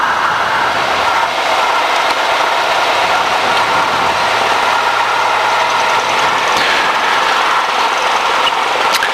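Light aircraft G-BOIL's piston engine running steadily at 1200 RPM, a constant broadband drone with a faint low hum that holds for the whole stretch, loud and close with no voices.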